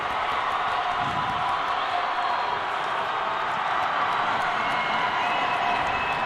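Crowd at a high school district final hockey game in an arena roars and claps steadily after an empty-net goal, a dense, sustained wash of cheering from a distance.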